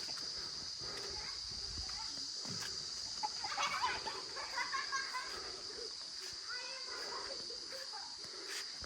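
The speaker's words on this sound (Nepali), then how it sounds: "कुखुराको चल्लाहरू" Chicken chicks chirp in a rural Nepali village, with small scattered peeps rising in the middle under a steady background hum, and faint voices nearby.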